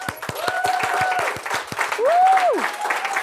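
Scattered clapping from a reunion gathering welcoming new members, with sharp individual claps mixed with whoops and cheering voices, fairly close and lively.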